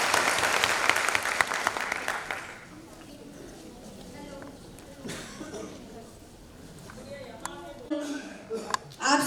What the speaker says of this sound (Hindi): एक बार जोरदार तालियों से गुड़िया का